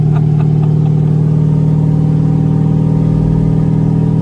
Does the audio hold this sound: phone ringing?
no